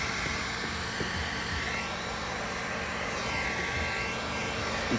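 A heat gun blows a steady, breathy rush of hot air while ceramic window tint film is shrunk onto car glass, a continuous hiss with a slight wavering edge throughout.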